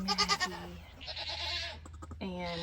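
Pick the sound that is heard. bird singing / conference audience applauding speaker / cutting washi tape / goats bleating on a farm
goats bleating on a farm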